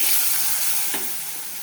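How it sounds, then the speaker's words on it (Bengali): Boiled potatoes go into a pan of fried rui fish with cumin, raising a steady, close frying sizzle and hiss with a brief stir-like rustle partway through, and no voices. "এখানে হচ্ছে এখন আলুগুলো দিয়ে দিব একদম পাতলা করে"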